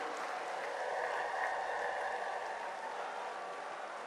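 A large rally crowd applauding India's Prime Minister, heard as a faint, distant, steady wash of clapping that holds evenly throughout without any talk on top.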